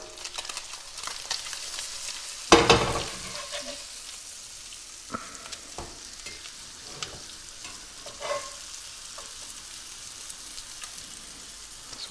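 Fish fries in a pan with a steady, fairly quiet sizzle, broken by a sudden burst of crackling spatter and a few scattered clicks and pops.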